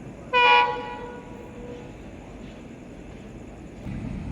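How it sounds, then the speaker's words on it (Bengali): The Simanta Express train pulls into platform one of a station at night, opening with one loud, close horn blast that fades into a steady low rumble of rolling wheels. "এক নম্বর প্ল্যাটফর্মের এক নম্বর লাইনে ট্রেনটি প্রবেশ করছে"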